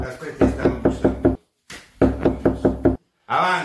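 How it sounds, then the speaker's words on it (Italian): Knocking on a door during an Italian comedy show sketch: two quick bursts of five sharp, loud, evenly spaced raps each, separated by a short pause, followed by a brief voice. "stanno bussando"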